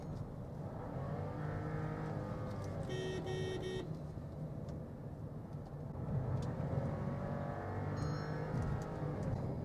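A Skoda Slavia sedan engine drones steadily after a two-gear manual downshift in sports mode, a continuous mid-level hum with a short electronic beep partway through and another faint chime near the end.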